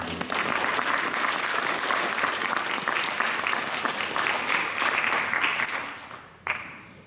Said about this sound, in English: Let's give them all a round of applause for all that they do